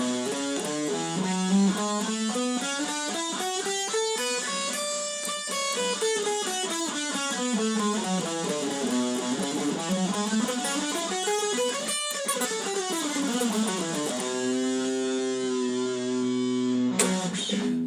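A distorted electric guitar runs a Dorian mode scale up and down repeatedly in quick, even notes, loud and close, ending on a held chord.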